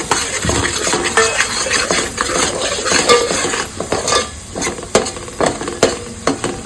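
Crab curry masala fries loudly in oil, a close crackling sizzle broken by busy stirring, spoon clatter and metal knocks against the pot.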